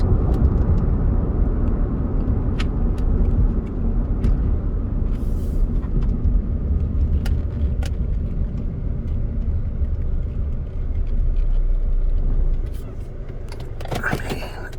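Steady low road rumble and muffled engine drone fill the cabin of a 2002 Toyota Camry XLE with a 2.4-liter four-cylinder on Michelin tires while driving, quiet and even, with a few faint clicks and a slight drop near the end.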